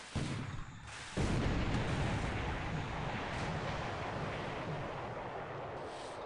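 Naval gunfire and torpedo launches in a WWII strategy video game, heard as a sustained loud rumbling roar after a brief dip near the start, with dense low-end booms and wash throughout.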